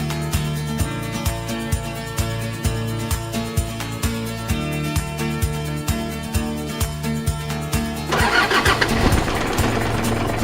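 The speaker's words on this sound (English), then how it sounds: "I'm driving this car" A car engine cranks with a rhythmic starter churn for several seconds, then catches and fires into a louder, rougher roar near the end, close and with no voices.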